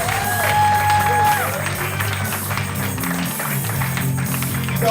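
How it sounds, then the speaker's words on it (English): A comedy show audience breaks into loud, sustained applause and cheering that fills the room as a steady wash of clapping, with a host's voice over it. "So please clap loud for the very funny Mr. Cory Polster."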